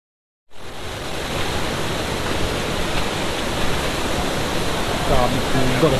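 Water rushes loudly and steadily at a waterfall at a Bohol spring resort, a dense close roar that starts abruptly and holds unbroken with no talk.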